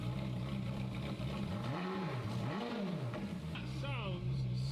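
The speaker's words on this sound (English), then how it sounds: "Sounds sick for a V8." A V8 car engine revs up and drops back twice in quick swells over a steady idle hum, then whines briefly higher, with voices talking over it.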